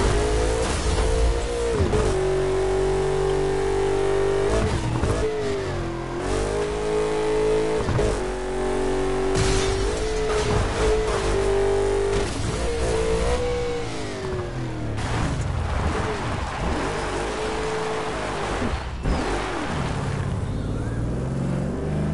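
Engine of an aggression class car in Burnout Paradise revving and surging in repeated waves, loud and close, with pitch climbing and dropping over continuous road roar and no talking.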